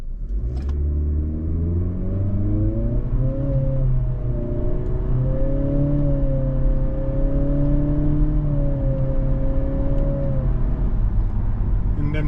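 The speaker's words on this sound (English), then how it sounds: "we're going to shift with the paddles, and we'll see how this CVT handles these simulated gears" A 2025 Acura ADX A-Spec with a CVT accelerates in sport mode, its engine whine rising and dropping through several simulated paddle-shift steps under a steady cabin rumble.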